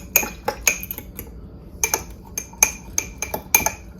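A fork stirring overnight oats in a glass jar: a run of quick, sharp metallic clinks and taps in uneven bursts, close and clear, with no talking.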